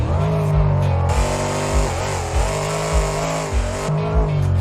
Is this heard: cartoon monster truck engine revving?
yes